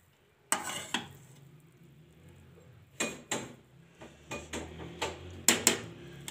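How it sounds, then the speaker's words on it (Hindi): A spoon stirring matar pulao in a pot, a series of sharp close scrapes and clinks in irregular bursts against a quiet background, with no talk. "एक साइड से हिलाएंगे।"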